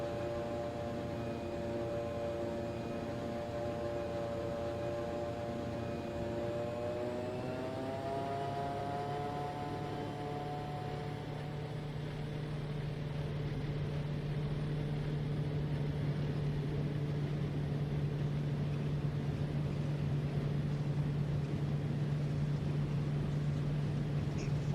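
A Kodiak seaplane engine at full power during takeoff from Oshkosh Seaplane Base in a flight simulator: a continuous loud drone that climbs in pitch over the first seconds, then holds steady with no talking.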